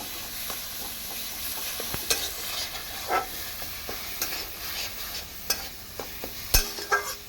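Raw mango mixture with turmeric sizzles and fries in a pan while a spoon stirs it, giving scattered clicks and scrapes over a steady crackling bed.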